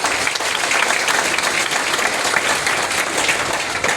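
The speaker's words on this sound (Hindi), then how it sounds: "देखिए मैं एक बार अजय सर के नाम पे ताली चाहूंगा।" Steady, dense applause from a large seated audience at a marketing seminar in Punjab Trade Center, continuous loud clapping filling the hall for the full few seconds.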